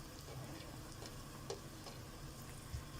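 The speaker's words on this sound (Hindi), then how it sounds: "अब हम इसमें प्याज डालेंगे।" Two large chopped onions hitting a hot pan for restaurant-style chicken and vegetable fried rice, giving a steady soft sizzle with faint stirring ticks and scrapes throughout, fairly quiet and without talk.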